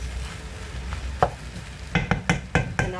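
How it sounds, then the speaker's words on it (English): A spatula scrapes and stirs cold rice with ackee and smoked salmon frying in a pan, giving a soft sizzle and then a run of five or six quick, close scraping strokes near the end. "I've got to use the spatula to separate it a bit"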